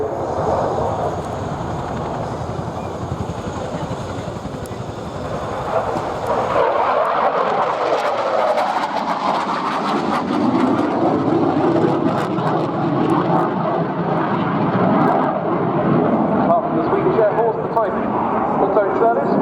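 Saab JAS 39 Gripen fighter jet of the Swedish Air Force flying at the RIAT 2016 airshow, a steady jet roar that swells and shifts pitch as it passes, heard under continuous commentary.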